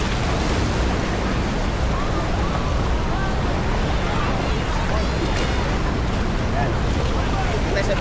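Ocean waves break and wash continuously at a beach in Da Nang, a loud, steady roar mixed with wind buffeting the microphone, with voices faintly beneath.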